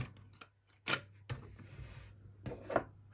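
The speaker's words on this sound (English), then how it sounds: "let's close up the remainder 4 bolts" Bolts being screwed into a CHUWI LarkBox mini PC case, a few short scraping and clicking bursts from a small tool and metal parts, close and fairly quiet, spaced apart with pauses between them.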